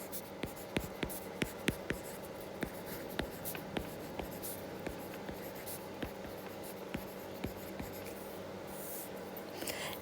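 A pen or pencil writes a number by hand on paper, making close scratchy strokes with regular taps and short pauses over a quiet background, with no talking.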